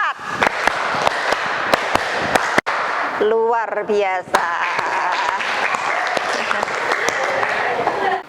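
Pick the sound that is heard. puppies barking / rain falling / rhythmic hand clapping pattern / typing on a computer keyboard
rhythmic hand clapping pattern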